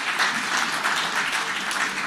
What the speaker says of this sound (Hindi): एक बार फिर जोरदार तालियों के साथ स्वागत कीजिए